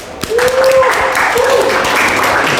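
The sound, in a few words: audience applause for Brian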